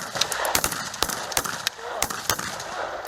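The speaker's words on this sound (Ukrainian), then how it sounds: "Бійців на різних флангах прикриває важка артилерія, гранатомети і міномети" Gunfire during a military assault training exercise with covering heavy artillery, grenade launchers and mortars: rapid, irregular sharp cracks and bursts, some loud and close, over a constant noisy battlefield background.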